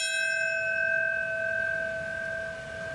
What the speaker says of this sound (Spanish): La campana ha marcado los minutos de silencio en el momento de cada uno de los impactos de los aviones